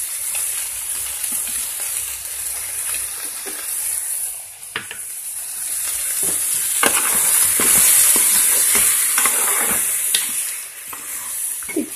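Eggplant curry frying and being stirred in a pan, steady sizzling hiss with repeated clacks and scrapes of the spoon against the pan, close and fairly loud, no talk.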